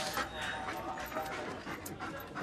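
A police dog pants rapidly and steadily at close range in a noisy setting, the quick breathy rhythm continuing throughout with some background chatter.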